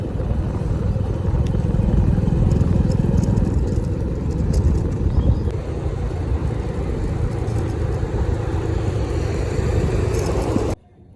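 A motorcycle runs loudly and steadily up close while being ridden through city streets in Hyderabad, its engine drone continuous until an abrupt cut at the end.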